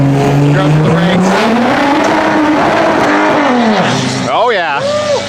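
Drag-racing car doing a burnout at a race night, its engine roaring loud and close with rising revs and tire squeal, while people talk over the noise.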